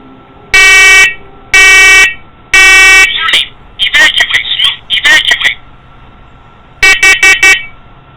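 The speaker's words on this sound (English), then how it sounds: "this alarm hasn't gone off since the last time he was downstairs" A smoke alarm in a basement: three long, loud electronic beeps, then shorter chirping bursts and a quick run of four beeps, harsh and close.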